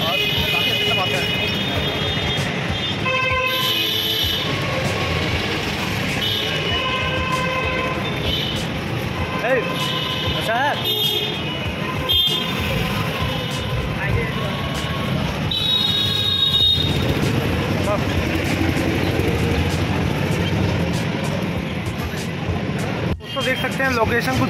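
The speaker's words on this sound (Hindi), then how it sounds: "भोजीपुरा रेलवे स्टेशन के बाहर हैं हम लोग।" Rail traffic outside Bhojipura railway station blends into a busy outdoor soundscape with rumbling and brief horn-like tones, while people talk loudly over it for most of the stretch.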